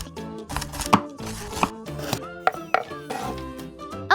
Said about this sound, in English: Let's chop the onions first. The garlic must then be chopped.